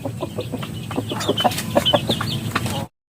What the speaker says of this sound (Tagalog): papakawalan ko nga ngayon itong ibong ito